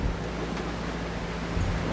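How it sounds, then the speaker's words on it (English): A gust of wind hits a sailboat at sea at night as it rounds an island point, heard as a steady, dense rushing roar of wind and water with no voices. "There's our first gust as we come around the point of the island."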